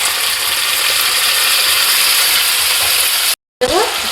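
Chicken legs with spices sizzle loudly in hot oil and are stirred with scraping, clattering utensil strokes, a dense continuous frying hiss that cuts out briefly near the end.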